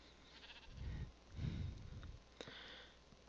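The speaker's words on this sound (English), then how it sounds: "sheep!" A Minecraft sheep bleats twice in wavering low calls, close and fairly soft, followed by a brief clicking game sound.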